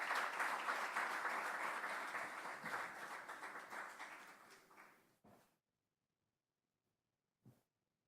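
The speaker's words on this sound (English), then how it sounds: "Can we give him a round of applause" Audience applause for a keynote speaker at a men's symposium in KwaZulu-Natal, a dense sustained round of clapping that slowly thins and fades out after about five seconds, followed by a couple of faint stray knocks.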